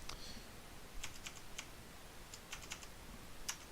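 Faint, sparse taps on a computer keyboard while typing Python code, scattered light clicks over a quiet room hiss.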